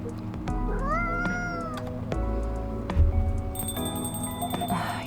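In the video game Coffee Talk 2, a cat meows clearly about twice, rising and falling calls over faint ambient game sounds and soft chime-like tones, with no one talking.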